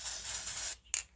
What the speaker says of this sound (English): So this is an antiseptic spray that actually turns into a bandage.